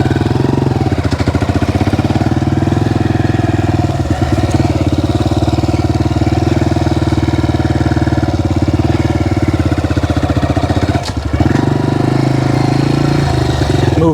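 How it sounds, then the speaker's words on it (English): A 2022 Honda CRF125FB dirt bike pulls away in second gear, its small single-cylinder engine droning loud and steady close to the mic with a rasping buzz, briefly dipping as the throttle blips near the end. "Actually, I'm going to take off in second and do some sitting and standing riding."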